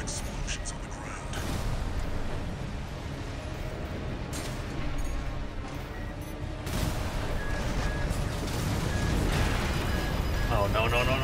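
Continuous rumbling blasts and heavy combat noise roll through a mech battle in Armored Core 6: Fires of Rubicon, loud and layered, with a few brighter impacts under a player's excited talk.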